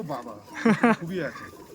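Giribaz pigeons cooing in a few soft, close rounds, with two louder throaty coos in the middle, set against faint background voices.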